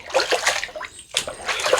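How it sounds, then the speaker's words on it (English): Water splashing and trickling as a face is rinsed after a shave with soap, a close run of wet splatters and dribbles with a brief lull partway through. "I'm going to rinse off really good here."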